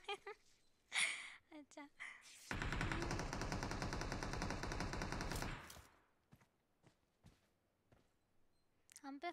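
Sustained automatic gunfire in the PUBG Mobile battle royale game, a dense rapid burst lasting about three seconds in the middle, with brief player chatter before and after.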